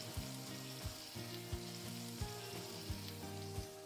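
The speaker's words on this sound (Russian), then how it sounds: "Следом добавляю помидоры пилати." Peeled pelati tomatoes go into a pan of frying celery and carrot for a hake sauce, giving a continuous bright sizzle with a regular pulsing rhythm of soft stirring bumps and a faint steady tone underneath.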